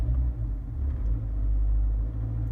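A car engine idles with a low, steady rumble, then rises briefly as the throttle is pressed, and settles back to ticking over, heard from inside the car.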